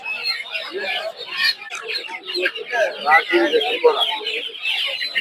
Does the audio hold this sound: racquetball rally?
no